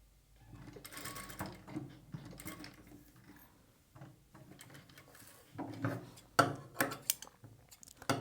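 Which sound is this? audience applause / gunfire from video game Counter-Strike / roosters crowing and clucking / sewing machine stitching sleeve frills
sewing machine stitching sleeve frills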